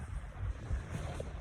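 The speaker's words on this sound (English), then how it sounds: "It is windy out." Wind gusting at a lakeside camp in late autumn in the Boundary Waters, a steady low rushing roar with buffeting across the microphone, fairly faint and continuous.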